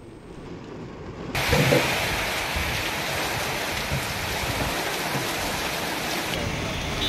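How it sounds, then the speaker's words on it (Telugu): Heavy rain pours steadily during a thunderstorm in Hyderabad, a dense, loud hiss that surges after the first second and then holds a constant roar for several seconds. "నగరంలోని పలు ప్రాంతాల్లో ఉరుములు మెరుపులతో కూడిన భారీ వర్షం కురుస్తోంది."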